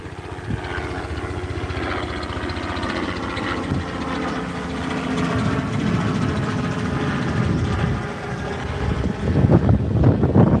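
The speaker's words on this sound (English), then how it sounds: "There's a helicopter flying down the beach." A Robinson R44 helicopter flies down the beach, its steady engine and rotor rumble blended with wind noise, staying fairly constant and swelling slightly toward the end.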